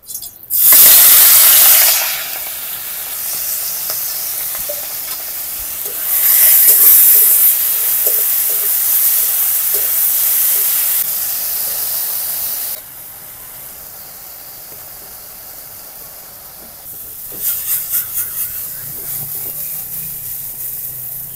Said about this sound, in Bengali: আলু আর এঁচড় ভেজে নেব